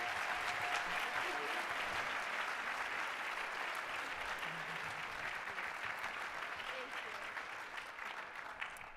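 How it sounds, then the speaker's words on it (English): Steady, full applause from a lecture audience on race and social justice, many hands clapping together at an even, loud level throughout with only a slight softening toward the end. "Round of applause."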